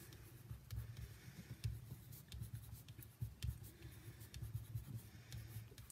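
A blue crayon writes Shabbat Shalom on paper, making soft waxy scratching strokes close up in an uneven rhythm, quiet and with no talking.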